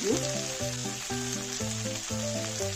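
Dry fish sizzling and crackling steadily in hot oil in a pan, a bright continuous frying hiss with light bubbling, close up and alone, while a rhythmic musical backing plays along underneath.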